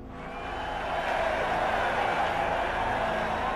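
A large crowd in Hanoi roars as Ho Chi Minh rallies it, a dense, steady wash of many voices that swells early on and then holds loud and sustained.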